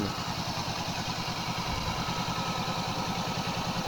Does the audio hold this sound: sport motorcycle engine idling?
yes